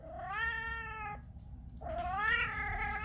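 A cat lets out two long, loud, drawn-out meows, the first rising and holding before cutting off, then a short pause and a second wavering meow, close and alone with no talk.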